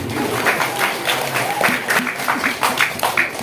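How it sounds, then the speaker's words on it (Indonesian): A crowd at a Maulid Nabi gathering in an Islamic Qur'an school applauds their friends with a short burst of close, uneven clapping, while a voice speaks over the applause. "Tepuk tangan buat teman."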